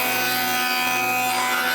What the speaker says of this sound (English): So we'll just do this on the joiner.